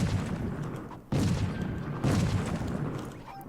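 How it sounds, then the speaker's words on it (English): Small bombs go off in the game Trove, two sharp booming blasts about a second apart, each decaying into a rumbling tail, fairly loud and close. "Here, let's use the littler bombs."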